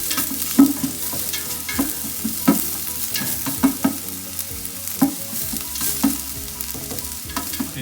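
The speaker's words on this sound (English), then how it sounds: "Okay, so I've sauteed the onions." Chopped onions sautéing in a soup pot, a steady sizzle broken by repeated scrapes and knocks of a spoon stirring, close and alone.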